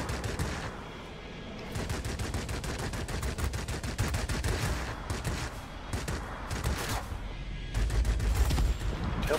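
Aircraft guns firing in World of Warplanes while flying a Yakovlev Yak fighter, long rapid bursts of loud machine-gun fire with brief pauses, heavy and continuous over engine drone.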